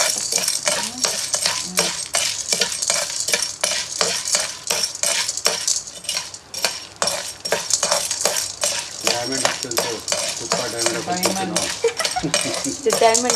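Dry fruits stirred in hot ghee in a home pan, with a dense, continuous clatter of a metal spoon scraping and rattling the pieces against the pan, loud and close throughout.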